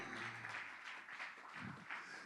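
Church congregation applauding during a Spanish-language sermon, a steady wash of many hands clapping at moderate distance, continuous for a couple of seconds with a brief low murmur near the end.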